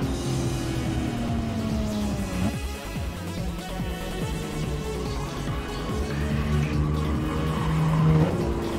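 A tuned 600-horsepower R32 Skyline GT-R races in Gran Turismo Sport, its engine droning loudly through gear changes and rising revs, with another car's engine alongside and no talking.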